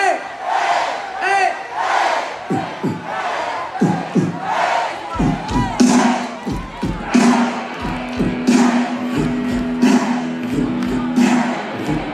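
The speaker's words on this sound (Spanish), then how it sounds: "Agora coas mans arriba un grito corto," Festival crowd at an orchestra concert in Santa Mariña, Ferrol, chanting in loud, rhythmic bursts of short group shouts with thumps, a sustained tone running underneath, continuing steadily for about twelve seconds.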